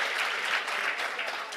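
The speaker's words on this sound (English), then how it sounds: "Can you all give a round of applause for Sandiso" Audience at a school technology event applauds with dense, steady clapping that fills the whole moment, moderately loud and close.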